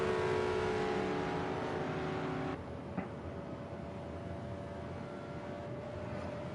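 GT3 race cars in a racing video game at Spa-Francorchamps, engines droning at high revs with steady layered tones, one car cutting off sharply partway through while another keeps howling alone, no talk.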